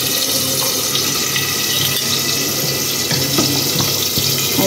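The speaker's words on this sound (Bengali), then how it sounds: "আর এইদিকে ভাতটা ফুটছে" Rice boiling in a pot on a home stove gives a steady, close bubbling and hissing rush that runs throughout with no speech.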